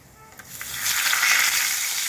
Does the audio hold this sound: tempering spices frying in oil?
yes